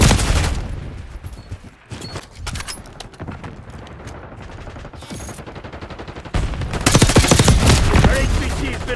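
Rapid automatic gunfire from a Call of Duty: Black Ops 6 multiplayer battle, loud bursts and dense rattling volleys throughout, swelling heavier near the end, with occasional game voice lines underneath.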